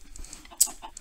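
Short, close clucks from a Minecraft chicken, a few quick soft notes with one sharper peep, heard alone against a quiet background.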